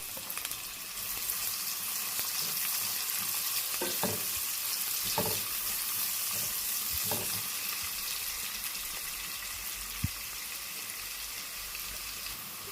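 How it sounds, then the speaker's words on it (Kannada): Chopped onion sizzles steadily in hot oil with a dense hiss, broken by a few soft clacks of stirring partway through. "ಎಣ್ಣೆ ಚೆನ್ನಾಗಿ ಕಾದ ನಂತರ ಒಂದು ನೀರುಳ್ಳಿ ಕಟ್ ಮಾಡಿ ಹಾಕೊಳ್ತಾ ಇದ್ದೀನಿ"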